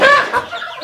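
A mother hen gives a short, loud cluck up close, trailing off into softer murmuring clucks, with no other sounds around it.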